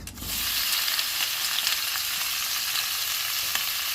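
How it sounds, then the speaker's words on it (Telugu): Red capsicum pieces dropped into a hot pan of oil, a sharp burst of sizzle at the start that settles into a steady close frying hiss, with a few clicks of stirring. "అదే మూకుడులో ఇప్పుడు ఈ రెడ్ క్యాప్సికమ్ ముక్కలు వేస్తున్నాను అనమాట"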